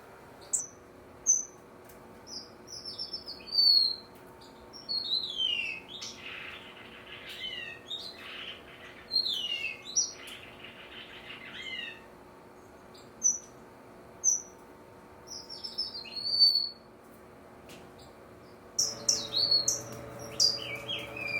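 Young birds in an aviary chirp and tweet in short, repeated high calls, scattered across the whole stretch with brief quiet gaps, busier toward the end, over a faint steady background hum.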